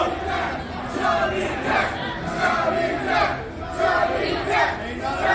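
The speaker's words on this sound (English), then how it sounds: "The crowd here chanting for Chubby Depp" A wrestling arena crowd chants in rising and falling waves at a steady distance, dense and continuous, during a live heavyweight-title event.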